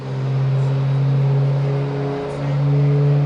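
A heavy truck engine on a dyno roars steadily at high revs, droning and pitch-holding with a slight dip midway, loud and continuous.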